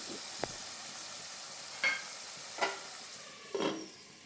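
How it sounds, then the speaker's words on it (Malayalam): Onions sautéing with turmeric in a pan for a dried prawn theeyal: a faint, steady sizzle broken by three or four brief scraping stir strokes. "നമുക്കൊന്ന് മിക്സ് ചെയ്തതിന് ശേഷം അടച്ച് വെച്ച് നന്നായിട്ട് വേവിച്ചെടുക്കാം."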